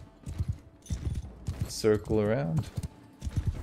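Mounted horse archers in the video game Mount and Blade Bannerlord gallop in a battle skirmish, with scattered hoofbeat clatter under someone talking.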